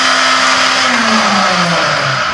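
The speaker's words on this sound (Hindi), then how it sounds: "पल्स मोड में मिक्सर ग्राइंडर अपनी पूरी पावर के साथ चलता है, पूरी स्पीड के साथ चलता है" An Atomberg mixer grinder with a 550 W BLDC motor whirs loudly at full speed in pulse mode, up to 18,000 rpm, a steady close whine whose pitch sweeps and wavers as it runs.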